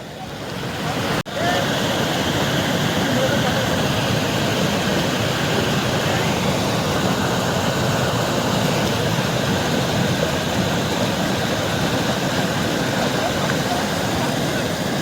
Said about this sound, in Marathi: पाण्याचा फ्लो जाम जोरात प्रभाव आहे